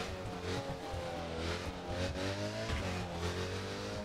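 BMW R1200 motorcycle revving in The Crew, the engine note climbing and falling through repeated throttle bursts with a harmonic whine, loud and close, alone without speech.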